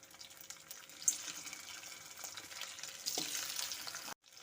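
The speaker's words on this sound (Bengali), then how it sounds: "আলুগুলোকে একটু লাল লাল করে ভেজে নেব" Boiled potato pieces fry in a pan with a soft, fairly quiet sizzle and scattered crackles, a few brighter pops rising briefly before the sound cuts out.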